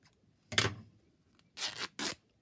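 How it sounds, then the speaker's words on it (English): Paper for an Easter journal is torn by hand in three short, crisp rips, one at first and then two in quick succession, close and clear against near silence. "Can I tear this one?"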